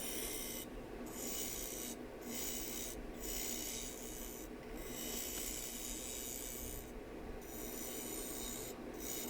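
A bowl gouge cuts material from a wood bowl spinning on a lathe, giving a steady, continuous rasping scrape close by with no speech.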